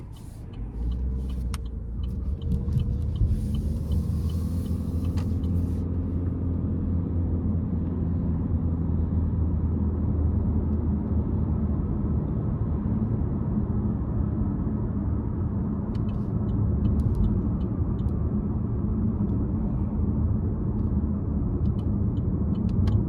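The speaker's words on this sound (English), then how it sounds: "let's go ahead and take this Malibu RS out on the road for a quick test drive." Steady low road rumble and engine hum from a 2022 Chevrolet Malibu RS with a 1.5-litre turbo engine and CVT, heard from inside while driving on the road, continuous and fairly loud with no talk.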